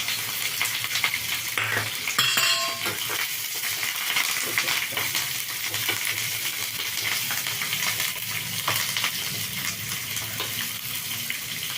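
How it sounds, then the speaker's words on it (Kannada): Continuous sizzling and crackling of tempering spices, curry leaves and green chillies frying in hot oil, close by, with occasional light clinks and stirring noises. "ನಾನು ಇವಾಗ ಫಸ್ಟ್ ಕೋಸಂಬರಿಗೆ ಒಗ್ಗರಣೆ ಹಾಕ್ಕೊಳ್ತೀನಿ"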